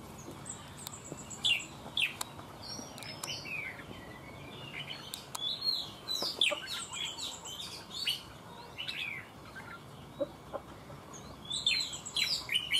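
Several caged songbirds sing and chirp in quick, bright overlapping phrases, fairly close, over a low background murmur with no talking.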